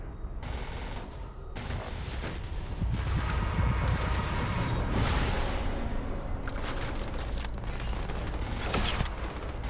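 Sustained automatic gunfire in Starfield, the space role-playing game, forms a dense, loud barrage of rapid shots with booming impacts, running almost without a break.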